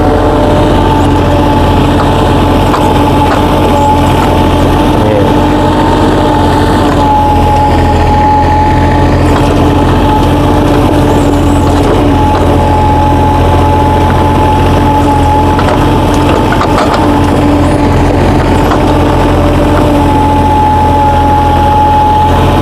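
A small excavator's engine running steadily, a loud, close, unchanging low drone with a faint whine on top and no pauses.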